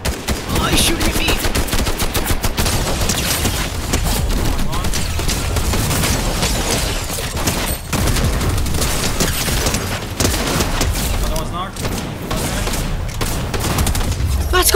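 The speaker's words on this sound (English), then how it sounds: "Oh, he's shooting at me!" Rapid bursts of video game gunfire, machine-gun rattles and sharp shots, crackle continuously and loudly throughout, mixed with game sounds and an excited player's talk.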